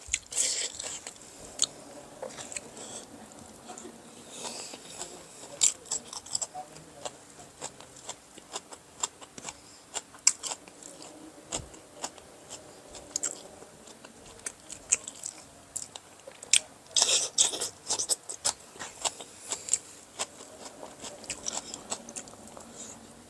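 Someone eats stir-fried morning glory with Burmese tomato chili paste, giving repeated close, crisp bites and chewing crunches in an irregular rhythm with no talk.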